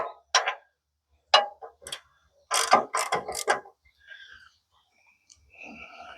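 A leveling bolt on a Norwood HD36v2 sawmill is loosened with a ratcheting tool in several short, close clicking bursts separated by brief pauses. Faint mechanical rattles follow near the end.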